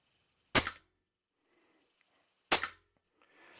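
Two sharp rifle shots fired at a target through an Arken SH-4 6-24x50 scope, about two seconds apart, each a loud crack with a quick decay into quiet.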